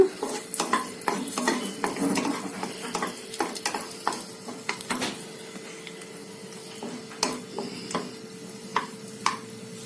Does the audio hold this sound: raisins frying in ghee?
yes